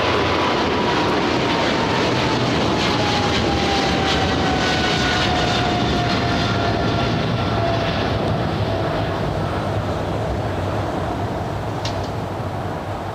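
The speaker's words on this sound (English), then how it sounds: "China Southern Cargo 777 freighter now taking off on 25 left" China Southern Cargo Boeing 777 freighter taking off on runway 25 left at LAX, a loud sustained jet-engine roar with a whining tone that slowly descends as the aircraft climbs away.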